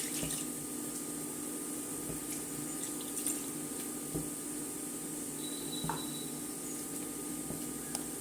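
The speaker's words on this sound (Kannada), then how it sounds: "ಇಲ್ಲಿ ನಾನು ತೆಂಗಿನಕಾಯಿ ಹಾಲು ತೆಗೆದಿಟ್ಟಿದ್ದೆ, ನೋಡಿ ಸೇರಿಸ್ತಾ ಇದ್ದೀನಿ" Coconut milk poured into a cooking pot on a lit stove while making a Mandya-style country chicken curry, a soft steady liquid trickle with light splashes, close and continuous, no talk.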